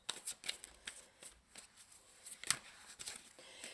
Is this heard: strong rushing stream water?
no